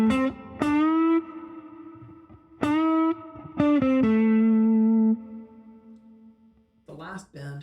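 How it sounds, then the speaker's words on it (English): Effected electric guitar notes are bent upward in pitch and then choked off before they fall back, several times with gaps between, including one longer held bent note, all fairly close and clear. "Here I bend the string up and then mute it out so that you don't hear it coming back down."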